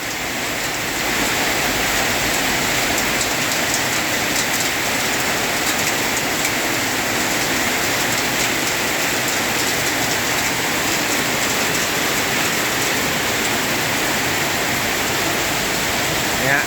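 Heavy rain pours down steadily on a flooding street, a dense, constant roar of water striking surfaces that holds at the same level for the whole stretch, with no talking.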